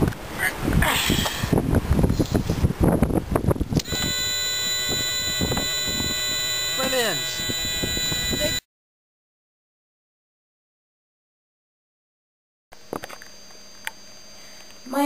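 A steady electric buzzer on a homemade model car drones with a harmonic tone after some clattering handling noise, then cuts out to silence before a short return.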